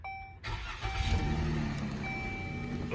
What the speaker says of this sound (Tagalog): Ito na yung kanyang susi. Push button to start din.